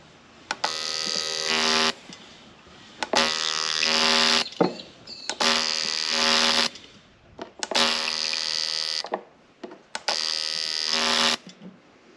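Bosch Motorsport 2000cc fuel injectors from a Toyota Supra are pulsed on an injector cleaning rig, giving five loud, steady electric buzzing bursts of about a second and a half each, separated by brief pauses and small clicks.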